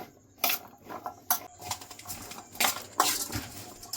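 Chola chaat ingredients are mixed together in a bowl, with a spoon scraping and clinking against the sides in uneven bursts, close by, and no talking.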